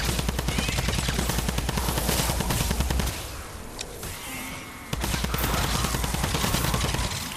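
Rapid, dense automatic fire from the Sunbeam Fire Typewriter in Fortnite, a loud continuous rattling burst that cuts out for about two seconds before resuming just as fast and hard.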